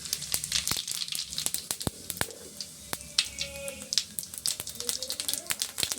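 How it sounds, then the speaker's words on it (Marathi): Cumin seeds dropped into hot oil for a vegetable tadka, crackling and popping in sharp irregular bursts over a soft sizzle, close and fairly quiet. "तेल झालेलं आहे तर गरम आपलं. आता आपल्याला टाकायचं त्याच्यामध्ये पहिले जिरं"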